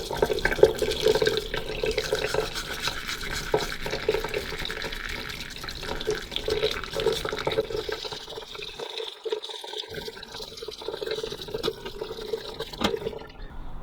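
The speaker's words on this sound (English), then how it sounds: "So I'm going to get a toothbrush and some warm tap water." Warm tap water runs steadily from a faucet while a toothbrush scrubs a kettle's anti-scale filter, a continuous splashing gush with brief scrubbing scratches, close by, easing and thinning near the end.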